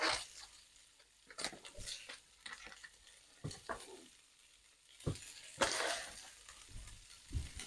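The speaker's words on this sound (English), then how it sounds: "It can take a little while to fry them sometimes." Moose meatballs sizzle in a frying pan while being stirred, with scraping and clattering bursts over a faint crackle, close and intermittent.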